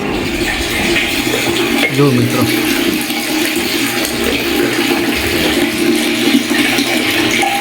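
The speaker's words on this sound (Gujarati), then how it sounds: "અહીં પાણી આવ્યું છે તો ટાંકી ભરાય છે" Water gushing steadily into a rooftop water tank, a loud continuous rushing and splashing, with someone speaking briefly over it.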